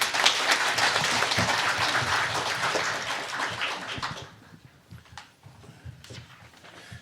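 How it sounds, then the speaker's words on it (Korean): An audience applauds with dense clapping that fades out after about four seconds, leaving a few scattered claps and a quiet room. "그러면 큰 박수로 환영해 주시기 바랍니다"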